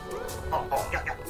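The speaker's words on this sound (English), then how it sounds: "Do you want to buy my hen for 10 quills?" A hen clucks in the Yooka-Laylee video game, a few quick, bright clucks over a busy background of game sound.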